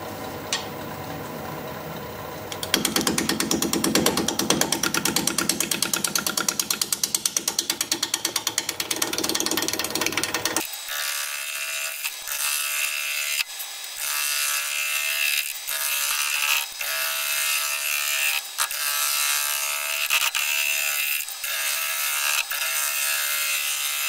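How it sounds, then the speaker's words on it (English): Weeping birch spins on a wood lathe at about 550 RPM while a 5/8 inch bowl gouge cuts it, giving a steady, loud rasping and chattering scrape that runs the whole time and turns brighter and harsher partway through, with no voices. "We're going to be using a 5/8 inch bowl gouge"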